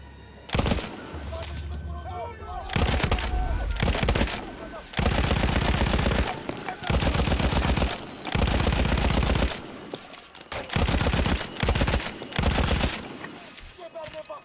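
Lewis machine gun firing in Battlefield 1, long loud sustained bursts of rapid automatic fire repeated several times with brief pauses between them, close and dominant.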